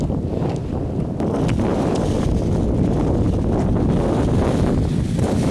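Strong wind at an open-field campsite, a steady loud roar buffeting the microphone and rustling gear, with no letup.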